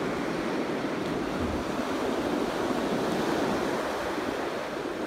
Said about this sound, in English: watch waves all day long